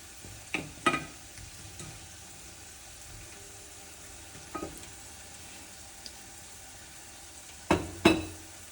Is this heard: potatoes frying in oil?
yes